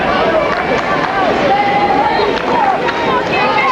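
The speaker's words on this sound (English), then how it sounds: "Big crowd here." Big crowd packed into grandstands and a hillside beyond the outfield fence at a 1991 Little League World Series baseball game, a steady dense babble of many voices, with a commentator speaking over it.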